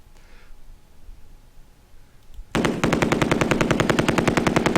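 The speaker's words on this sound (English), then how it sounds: "We're going to go ahead and use all of our squads of machine guns there." Machine gun squads open fire in a World War II wargame, a quiet lull giving way abruptly to a loud, sustained, rapid-fire rattle of even bursts.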